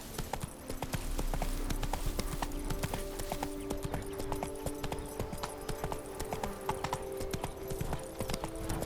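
Hooves of Roach, a horse in The Witcher 3: Wild Hunt – Blood and Wine, clip-clop in a steady trotting rhythm over a continuous background score, close and prominent throughout.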